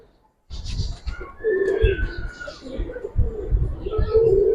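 Giribaz pigeons in a loft coo in repeated low throaty bursts, close and fairly loud, with a brief whistle-like call and rustling among them.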